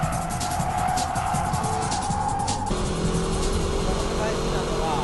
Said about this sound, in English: Let's check out the braking drift.